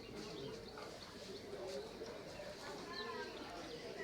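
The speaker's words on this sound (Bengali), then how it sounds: "এই যে বিভিন্ন প্রজাতির কবুতর দেখা যাচ্ছে, ডিম নিয়ে তা দিচ্ছে থেকে।" Pigeons of various breeds coo softly in a farm enclosure where hens are brooding on eggs, a low steady murmur with faint chirps under nearby voices.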